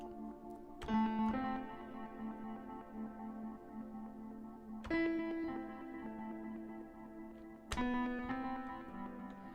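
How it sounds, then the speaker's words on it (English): Piano chords ring out three times, each struck and left to decay in a long, washy reverb tail from the Things-Motor plugin by AudioThing and Hainbach that hangs between them. "listen to that reverb on there"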